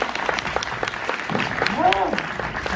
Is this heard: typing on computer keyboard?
no